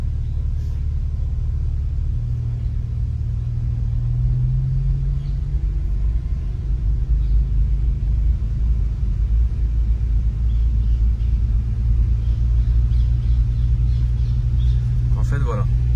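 Car engine during a driving lesson: a steady low rumble fills the cabin throughout, with a brief rising tone early on as the car picks up speed. Faint voices can be heard under the engine.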